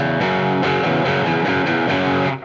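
An electric guitar through a NUX Trident modeller's low-gain amp preset plays a short chord pattern with mild, gritty crunch, loud and upfront, the final chord fading out at the end.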